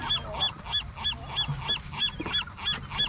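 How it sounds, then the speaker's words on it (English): Seagulls call on a rocky fishing ledge on the Southern California coast, a rapid series of about nine sharp, fairly close cries repeating at an even pace with no talk over them. "The seagull saw that."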